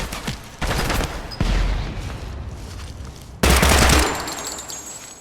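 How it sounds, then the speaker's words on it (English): A grenade goes off during a video game weapons test, a heavy blast landing amid loud, sustained automatic gunfire, with another boom and burst of shots near the end. "Oh my god, it's a grenade."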